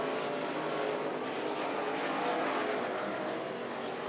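IMCA modified race cars circle Grays Harbor Raceway, their engines blending into a continuous distant roar that holds steady at moderate volume without any distinct pass-by.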